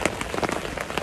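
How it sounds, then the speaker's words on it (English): Heavy rain hammering down outdoors at a carp fishing spot, a dense, steady hiss of drops striking surfaces with scattered louder patters throughout. "I wasn't expecting this rain."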